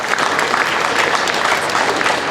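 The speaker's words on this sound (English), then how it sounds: "let's give this group of cows a round of applause again" A crowd at the 2017 Ontario Summer Show Holstein dairy cattle competition claps steadily. The dense, loud applause continues throughout with no pause.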